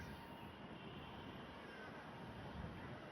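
An airplane flies far off near an airport, a faint, even roar that holds steady throughout without any voices.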